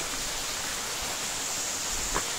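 Hacıllı waterfall beside a campsite, a constant broadband rush of falling water, close and steady with no breaks, alone without voices.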